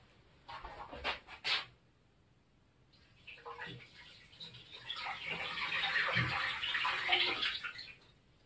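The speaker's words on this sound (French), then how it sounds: "Je vais renverser ça dans l'évier." Old fig fruit kefir is tipped out of a jar into a kitchen sink, giving a few seconds of steady, close splashing and draining water after some brief handling clatter.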